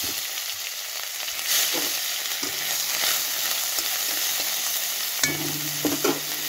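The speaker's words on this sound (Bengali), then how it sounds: "ওই তেলের মধ্যে প্রথমে আমি এই দেখুন 5 ফোড়ন দিয়ে দিচ্ছি" Panch phoron spices crackle and sizzle in hot oil left from frying potatoes, a close, steady fizz with occasional sharper pops and a scrape of a utensil near the end.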